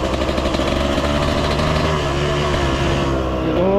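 A motorcycle engine idles steadily while warming up at a home track, a continuous close, loud mechanical drone with a slight uneven throb and a faint rise near the end.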